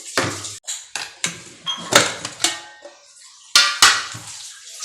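A metal spoon clinks and scrapes repeatedly against a dish while sweet festival food is served, sharp close taps in an irregular rhythm with no talking.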